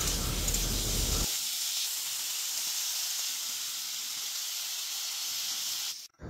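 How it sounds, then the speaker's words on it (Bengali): Pointed gourd and potato pieces with turmeric fry in hot oil, giving a steady loud hiss and sizzle while being stirred, easing to a quieter crackle before a brief pause at the end. "তো গাইজ চলো ভাজা যাক, এখন লাড়তে থাকি"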